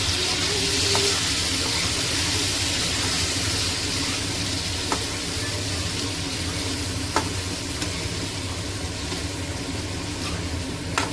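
A prepared spice paste sautéing in a pan for Bengali potato curry, a steady loud sizzle running throughout with a few faint clicks of a spoon, close by and with no voices.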